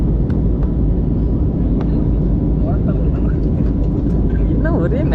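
Steady loud roar of an airplane cabin during a flight to Goa, a continuous broadband engine and air rush filling the whole clip with faint background voices.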